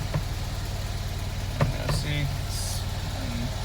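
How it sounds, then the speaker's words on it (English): A small Fiat 126p engine idles steadily with a low, even rumble, a few faint clicks and a brief voice over it. "It is idling normal."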